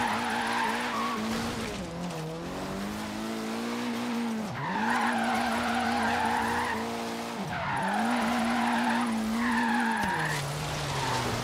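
Tires squeal and skid steadily through a handbrake 360 spin in Ken Block's Hoonigan Subaru WRX in Forza Horizon 3, the engine's high revving whine rising and falling with each slide, loud and close with no talk.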